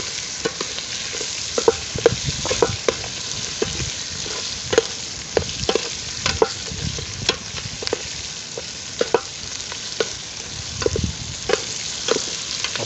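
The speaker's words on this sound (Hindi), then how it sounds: "मसाले के साथ अच्छी तरह भून लेंगे, मसाले के साथ अच्छी तरह भून लेंगे इसको।" Spices and vegetables fry in a pan in a village kitchen in Gilgit Baltistan, a steady close sizzle broken by regular scraping strokes of stirring throughout, with no speech.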